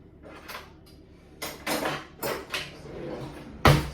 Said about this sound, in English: I'm going to get the spatula and I'm going to fold it all in